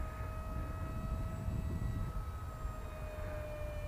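The small electric motor of a Lidl Chuck Glider RC Vulcan model plane in flight gives a faint, steady whine with thin tonal lines over low outdoor rumble.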